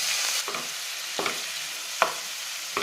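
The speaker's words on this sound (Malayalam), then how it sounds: "അരപ്പും ചേർത്ത് നന്നായിട്ട് ഇളക്കി ലോ ഫ്ലെയിമിൽ വെച്ച് അടച്ചു വെച്ച് വേവിക്കാം." A spoon stirring breadfruit thoran mixed with ground coconut paste in a pan on low flame, with steady soft sizzling and several scraping strokes at a regular rhythm.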